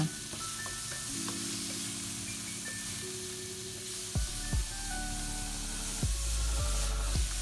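Shrimp sizzle as they are stir-fried in a pan with salt and black pepper, a steady close frying hiss broken by a few sharp scraping sweeps of the utensil.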